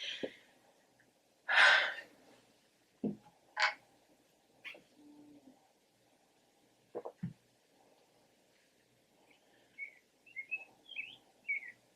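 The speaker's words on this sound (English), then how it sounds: "there are birds talking to each other and they're tweeting" Birds call in scattered short chirps and tweets with quiet gaps between them, near and fairly faint, with a few brief louder bursts.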